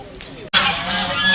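A flock of ducks honking loudly and continuously, many overlapping calls close by after a brief gap, at a pond in Guwahati.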